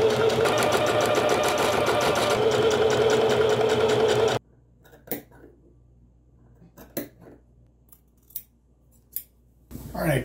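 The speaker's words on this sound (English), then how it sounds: "I cut a bunch of relief cuts, especially on the parts that are really curvy" Scissors snip through fabric for a Western-style cowboy vest, trimming corners and relief cuts on curved pieces, loud and continuous for the first few seconds, then a handful of scattered close snips separated by quiet gaps.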